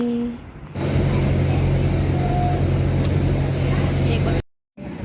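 Steady low engine rumble inside an airport shuttle bus carrying passengers out to a plane, loud and continuous after a brief quieter start, with a short dropout near the end.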